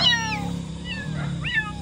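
A cat meows close by in a setting in Bali, a few drawn-out, wavering calls over a low steady background hum.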